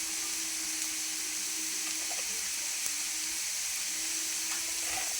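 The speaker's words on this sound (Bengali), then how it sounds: "এদিকে পেঁয়াজটা আমার এই যে হালকা ভাজা হয়ে গেছে। এই যে এখন দিয়ে দেবো আমি আদা রসুন বাটা।" Ginger garlic paste sizzles in oil over lightly fried onions, giving a steady, even hiss with faint stirring clinks and no voices.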